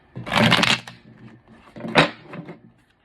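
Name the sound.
tarot cards being shuffled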